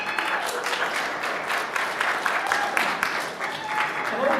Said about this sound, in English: We'll give Hope a round of applause.